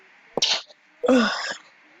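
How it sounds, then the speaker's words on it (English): A person playing a video game sneezes, a sharp close sneeze followed by a second, longer and louder sneeze about half a second later, with no speech around it. "I sneezed."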